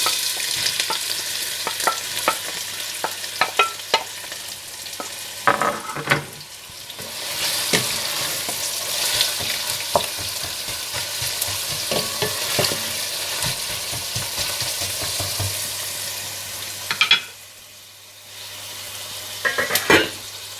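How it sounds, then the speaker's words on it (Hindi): Onions frying in hot desi ghee for a Kashmiri gushtaba masala, a loud steady sizzle with stirring scrapes and utensil taps, briefly dipping near the end before resuming. "और इसमें प्याज डालकर हल्के ब्राउन करके निकाल लें।"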